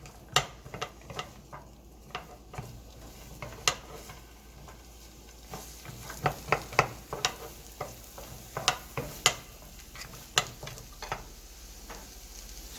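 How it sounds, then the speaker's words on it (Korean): Carrots stir-fried in a pan for kimbap filling, a steady close sizzle broken by repeated sharp scrapes and clacks of a utensil against the pan, irregular and clustered more densely toward the end, with no talking. "먼저 당근을 볶아줍니다"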